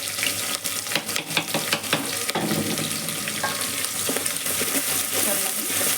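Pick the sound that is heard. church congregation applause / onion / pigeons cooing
onion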